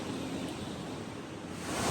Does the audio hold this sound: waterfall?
yes